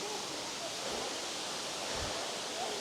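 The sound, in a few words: waterfall at Vaioro, Moorea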